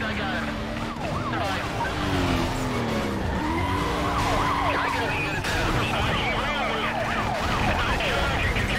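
Police car sirens wail in rapid repeating sweeps during a Need for Speed race, over tire skids and engine noise, with someone talking in Portuguese throughout.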